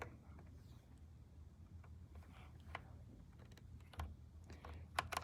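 Keys on a HITIME XVX M61 60% wireless mechanical keyboard pressed lightly, giving soft scattered clicks and taps at an irregular pace, quiet and close, with a few sharper clacks near the end.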